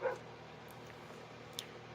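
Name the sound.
dog barking to get out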